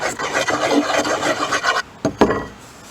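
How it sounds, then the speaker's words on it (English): A hand rasp files along a rattan sword handle, shaping the grip with steady, close rasping strokes that stop briefly and then come back as a few short scrapes. "you can go back over with your rasp one more time and correct those"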